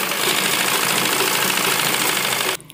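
A sewing machine stitches the sleeve hem of a school-uniform kurta with a dense, rapid mechanical whirr held at an even level before cutting off abruptly near the end.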